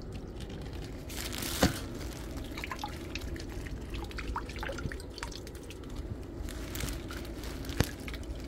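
Water drains from a Mitsubishi City Multi air conditioner pump into a plastic bag, with steady dripping and trickling, soft crinkles of the bag, and a couple of sharper splashy knocks, fairly quiet and close.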